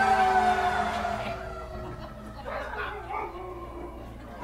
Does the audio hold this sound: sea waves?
no